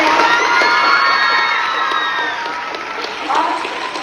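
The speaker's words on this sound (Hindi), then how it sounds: "एक बार फिर से सर के लिए ताली बजाएं।" At a school assembly, a crowd of children claps and cheers loudly for a teacher, shrill shouts and whoops layered over the clapping at first, the noise easing off slightly toward the end.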